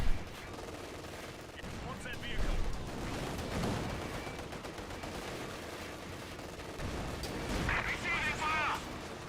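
Anti-tank guns and anti-tank rifles fire in a Company of Heroes 2 Barbarossa battle: several heavy booming shots and crackling bursts over a dense rumble of combat, with a player talking over it.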